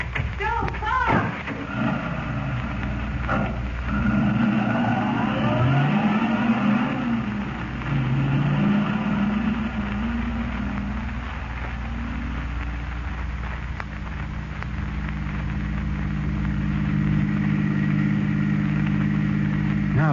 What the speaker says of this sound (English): The Phantom automobile is going to put in an appearance tonight.